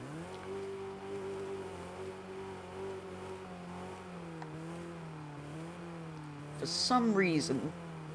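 A small van engine in a racing video game drones steadily with a rising and falling pitch, then revs sharply near the end with a brief whine, under faint background noise.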